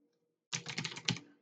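A computer keyboard clatters in a quick burst of keystrokes after a half-second of near silence, close and clear, then fades out.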